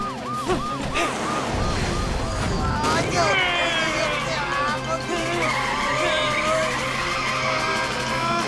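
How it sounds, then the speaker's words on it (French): A cartoon car skids on a wet road in a children's road-safety animation, with sharp tire squeals sliding in pitch. Animated voices and music play alongside the skid throughout. "Ah, je glisse, je pourrai jamais m'arrêter."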